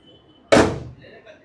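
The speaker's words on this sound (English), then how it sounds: "So let me shut this." A Renault Duster car door is pushed shut with one solid, close thunk that fades quickly into quiet.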